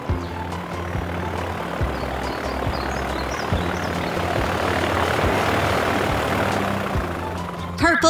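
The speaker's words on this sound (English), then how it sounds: "The red plane is taxiing away from the runway." A propeller aircraft engine drones steadily nearby, a low rumbling hum with pulsing tones that swells slightly and then eases off.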